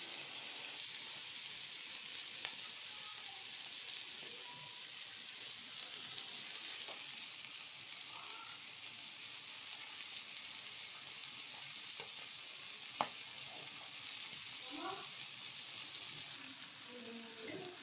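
Kofta with onions cooking in a tagine, a steady soft sizzle and fry hiss running throughout, fairly quiet and even, with occasional small pops and faint clinks and no talking.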